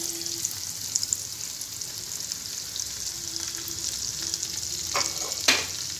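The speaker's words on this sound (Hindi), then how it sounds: "अब इसको अच्छे से भून लेंगे" Boiled spinach and scrambled egg bhurji sizzle steadily in a pan, with a couple of sharp scraping stirs near the end over the constant frying hiss.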